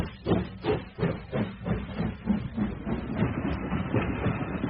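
A train rolls through the night as a radio play sound effect, with rhythmic chugging and clacking pulses over a steady rumbling hiss, close and fairly loud.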